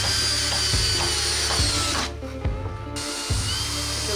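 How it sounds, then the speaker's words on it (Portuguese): A power drill drives screws into wood on a ranch house build, whining loud and continuous up close, with one short pause before it runs again. "Vamos parafusar aqui, ó, bem retinho."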